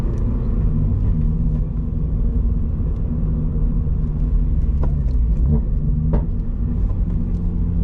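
Subaru BRZ engine with a manual gearbox, droning and rumbling steadily from inside the cabin, the revs rising and falling slightly through a rev-matched downshift, with no voices.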